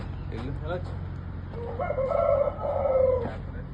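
A rooster crows nearby at a poultry breeding unit, a drawn-out cock-a-doodle-doo over a low farmyard hum, preceded by a few brief clucking calls.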